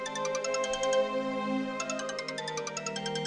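A phone's ringtone plays as a repeating musical melody with steady bright harmonic tones, continuing loudly throughout with no talk over it.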